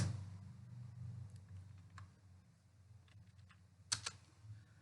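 Keyboard typing while entering a service tax entry into accounting software: a handful of quiet scattered key clicks, with one sharper burst of taps near the end, over a low room hum.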